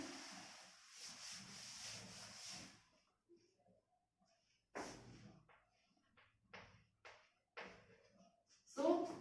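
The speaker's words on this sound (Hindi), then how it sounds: "मैं क्वेश्चन रब कर रही हूँ" An eraser scrubs a question off a classroom board in a chemistry lesson, a close, rough rubbing for a few seconds, followed by scattered quieter wipes and short knocks.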